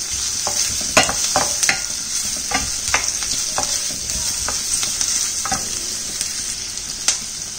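Onions sauté in hot oil for a peas masala gravy, a steady close sizzle broken by repeated scraping strokes of a spatula stirring the pan, with no talking.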